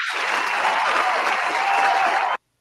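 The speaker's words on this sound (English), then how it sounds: "Round of applause for that" Loud, sustained clapping from a crowd at a wrestling post show, steady and even throughout before cutting off abruptly.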